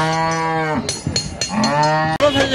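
Cattle low loudly and close at a busy livestock market, Gabtoli cattle haat in Dhaka, with long sustained moos broken by short calls and crowd noise between them.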